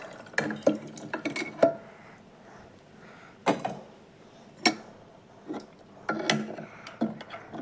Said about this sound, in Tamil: இப்போ வேக வச்ச மட்டன் சேர்த்துக்கலாம் அந்த தண்ணியோடவே